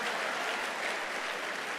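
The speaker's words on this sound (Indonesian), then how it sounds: "Tepuk tangan buat yang merokok ya." A church congregation at an evening prayer service claps briefly for the smokers among them, a faint, even patter of many hands heard from a distance.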